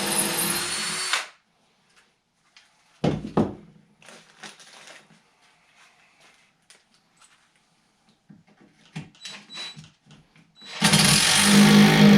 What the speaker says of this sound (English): now I'll go ahead and I'll drill that other hole.